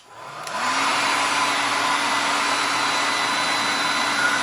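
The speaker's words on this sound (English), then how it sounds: "I'm going to use a little hair dryer." Small hair dryer heating an iPod LCD, switching on with a rising whir and then running as a loud, steady blowing hum with a constant motor tone.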